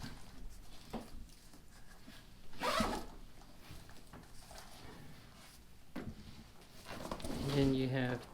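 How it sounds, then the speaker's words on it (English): The zipper on a Wool and Oak Wings backpack is drawn along in a few rasping pulls, close and fairly quiet, with pauses and soft handling rustle between them. "it zips up on this side too."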